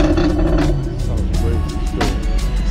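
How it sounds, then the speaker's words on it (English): Sports car with its loud exhaust mode switched on, a deep rumbling engine roar close by that swells with a sharp rev near the end. "Exhaust on. Bro, this car sounds"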